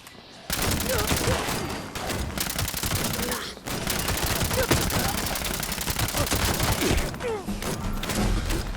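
Rapid weapon fire in the Fallout 76 video game: dense, fast bursts of gunshots rattling on with one brief pause midway, fairly quiet overall.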